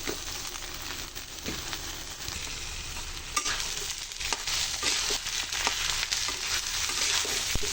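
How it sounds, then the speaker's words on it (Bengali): Rice grains frying with a reddish spice paste in a pan, a dense, close sizzle with frequent scraping stirs and clicks of the spatula that grow slightly louder toward the end. "এবার আমি ভেজে নেব।"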